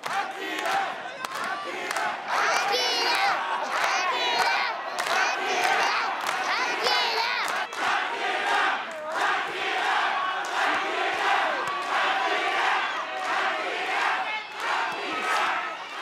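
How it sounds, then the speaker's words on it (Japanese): A large crowd cheers and shouts loudly and continuously, voices blending into a dense roar with rhythmic chanting bursts. "地元の友人仕事仲間など100人以上もの応援団の大声援です"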